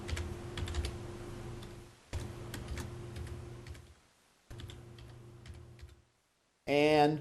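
Computer keyboard being typed on in a lecture setting, quiet rapid key clicks in bursts separated by pauses, over a low steady hum, with a short loud sound at the end.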